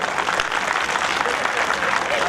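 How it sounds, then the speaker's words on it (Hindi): An audience at an ex-servicemen association event applauds, a dense, continuous wash of clapping from many hands, steady and fairly loud with no breaks. "इसके लिए जोरदार तालियां होनी चाहिए।"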